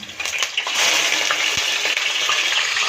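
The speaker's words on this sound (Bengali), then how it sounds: "কালো জিরে ভাজি নেন পেঁয়াজ বাটা দিন" Black cumin and onion paste frying in hot oil for a Bengali mutton dish, giving a loud, steady, close sizzle and crackle throughout with no talking.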